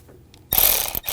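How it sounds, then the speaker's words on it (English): A ratchet tightening a hose clamp on the vacuum control valve of a 2006-2009 Audi S4, a short burst of fast ratcheting clicks close up after a quiet start, with a brief pause mid-burst. "just raise up the hose clamp so I can tighten it"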